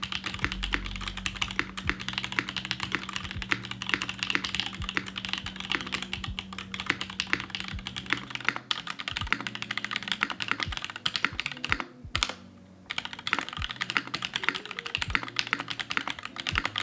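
Steady, dense typing on a top-mount QK101 mechanical keyboard, keystrokes clattering continuously at close range with a brief pause near the end, and no voices.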